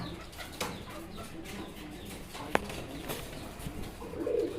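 Fancy racer pigeons cooing in a loft, with soft, low calls set among a murmur of birds and faint background noise, broken once by a sharp short click.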